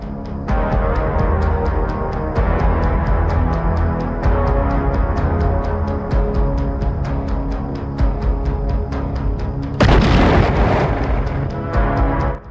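Ukrainian FPV drone strikes sending a heavy, continuous run of booming explosions, loud and close, with dense rumbling bursts and one sharper, brighter blast near the end.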